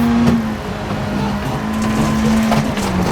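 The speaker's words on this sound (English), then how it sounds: "Shift into fifth, just to keep the engine revs down." A Peugeot 205 rally car engine in a rally simulator game hums at steady revs after an upshift into fifth gear. The tone is fairly loud and even, with a slight pitch drop near the end.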